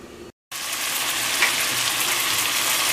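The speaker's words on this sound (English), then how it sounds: "So when your pan is hot enough, you're gonna put it in there." Seasoned salmon hits a hot pan for a southwestern salmon salad, and after a brief silence a loud, steady close-up sizzle of frying fills the rest of the moment.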